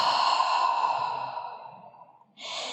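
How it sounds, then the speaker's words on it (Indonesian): A long, deep exhale during a slow yoga stretch, a breathy sigh fading gradually over two seconds, followed by the start of another breath. "Breathe."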